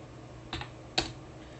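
Two quiet, separate keystrokes on a computer keyboard while entering commands to configure a Cisco 2960 switch, brief clicks against a faint background hum.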